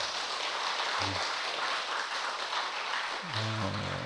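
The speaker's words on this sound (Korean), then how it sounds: "다시 한번 소은모 형님께 감사의 박수 한번 부탁드리겠습니다." Congregation applause at a church service, a dense wash of many hands clapping at a fairly soft level, with a voice briefly heard at two points.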